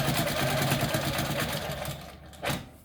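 A long arm quilting machine stitches binding onto a quilt, its steady rapid mechanical hum running loud and close before easing off, followed by a short burst of noise near the end.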